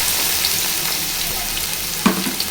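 Thinly sliced large onion frying in plenty of hot oil for a fish gravy curry: a steady, close sizzling hiss throughout, with a brief clatter of stirring near the end and no voices.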